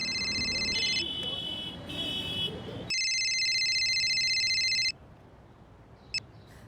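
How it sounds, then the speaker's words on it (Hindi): An electronic telephone ring tone sounds during a call, repeating in steady, even bursts before falling quiet. "जरा फोन लगाओ सुनीता दीदी को।"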